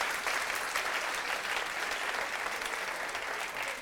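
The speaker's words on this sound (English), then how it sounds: "Clap yourselves." Audience applause at a children's book awards ceremony, a steady wash of many hands clapping at moderate distance, continuous throughout without speech over it.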